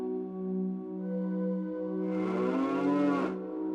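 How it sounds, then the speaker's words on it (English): Cows in the video game Ocarina of Time moo once in a long, loud bellow over steady background game music, with no talking. "Sadly, I cannot milk the cows."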